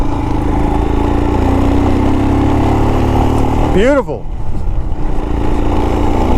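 A Royal Enfield Himalayan motorcycle with a 24 hp engine drones steadily while being ridden along a road beside a bicycle trail. The engine runs beneath a voice throughout and briefly dips near the end.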